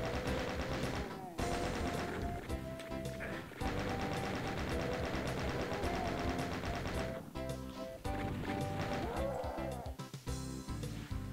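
Rapid gunfire in a Doom map, the House by the Bay level, with dense bursts of shots running almost continuously over game music and effects, briefly dropping out twice.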